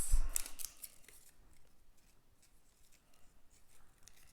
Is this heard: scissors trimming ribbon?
yes